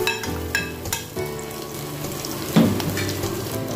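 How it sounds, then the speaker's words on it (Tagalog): Garlic sautéing in a pan over high flame for chicken-neck adobo, with a steady, close, crackling sizzle and a few clinks and scrapes of stirring. "Nagisa na, ilagyan natin ang bawang."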